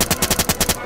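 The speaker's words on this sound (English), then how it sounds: "does this oil can even suppress the gun? Let's find out." A rapid burst of about eight muffled gunshots fired through an oil can silencer in a video game, evenly spaced and loud, with a short fade after the last shot.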